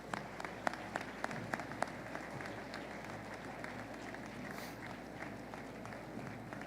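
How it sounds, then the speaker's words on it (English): A school assembly audience claps out the seniors at a Veterans Day assembly, with steady, fairly distant applause mixed with shuffling footsteps as students leave, and a low constant hum underneath. "Let's clap out our seniors"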